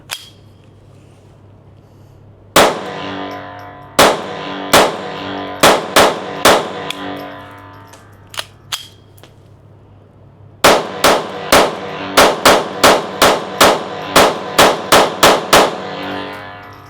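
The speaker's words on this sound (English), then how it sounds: "So let's shoot the first shots." A Smith & Wesson M&P 22X pistol fires a string of sharp, loud, close shots, first spaced out singly with pauses and then in a quicker, steady run of about a dozen reports, with no talking.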